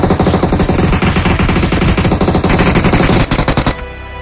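Rapid automatic gunfire from BGMI, loud and sustained in dense bursts for several seconds, then cutting off abruptly as the enemy goes down, leaving a quieter game backdrop.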